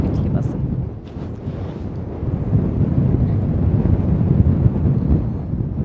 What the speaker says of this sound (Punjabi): ਬਹੁਤ ਤੇਜ਼ ਹਵਾ ਚੱਲ ਪਈ ਹੈ ਇੱਥੇ